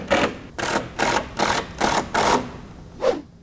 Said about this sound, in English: Now we'll just throw in a couple of screws